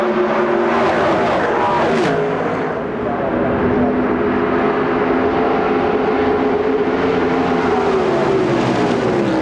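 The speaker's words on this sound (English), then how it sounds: "Here comes Lake Speed closing in on the back of Jeff Gordon's car." NASCAR Winston Cup race cars roar at speed around Indianapolis Motor Speedway during 1996 Brickyard 400 practice, a loud continuous engine wail with pitch shifts as cars pass, with voices faintly beneath.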